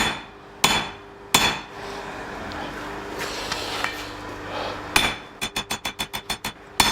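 A hammer striking 8mm mild steel rod on an anvil while forging an arrowhead: a few isolated sharp ringing blows, then a quick rhythmic burst of about eight close, bright strikes near the end.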